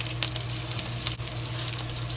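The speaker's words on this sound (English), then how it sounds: "we put the meat just meat set it down like this in the oil to fry" Tofu stuffed with ground beef frying in hot oil over medium heat, a steady close sizzle and crackle with a constant hiss throughout and a few brief spatters.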